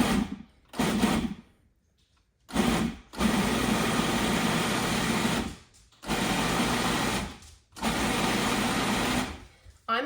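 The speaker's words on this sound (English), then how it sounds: "I have 2 of the 12-ounce bags of cranberries in here, and I'm just gonna pulse them." Food processor pulsing two bags of fresh cranberries for jam, a near whirring motor in short then longer bursts with silent gaps between, four pulses in all.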